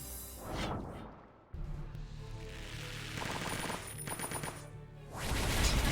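Rapid bursts of gunfire in the strategy game Symphony of War, dense overlapping shots and impacts under game music, loud and sustained across the clip.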